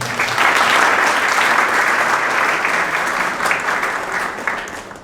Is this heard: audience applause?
yes